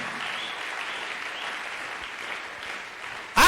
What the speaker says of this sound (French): Applaudissons très fort pour le roi des rois